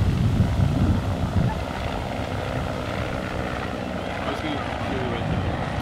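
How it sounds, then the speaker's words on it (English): A helicopter passes overhead outdoors, a steady low rotor and engine drone. People talk over it, and their voices are loudest in the first second. "There's a helicopter."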